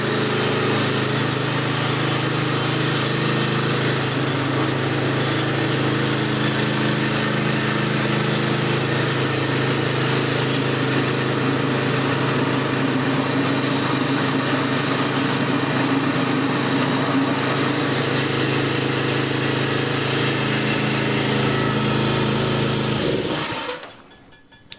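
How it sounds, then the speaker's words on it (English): A Harbor Freight Predator engine fitted to a DR walk-behind string trimmer runs at a steady, buzzing idle for a long stretch, loud and close, then cuts off abruptly at the end. "This is our Harbor Freight Predator engine swapped DR mow behind, walk behind string trimmer."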